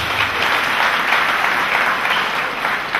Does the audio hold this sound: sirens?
no